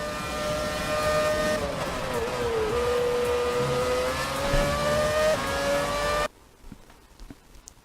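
A Formula 1 car in the F1 2017 racing game drives through a final corner, its high engine whine steady and loud for about six seconds and shifting pitch slightly, then cutting off abruptly to near silence.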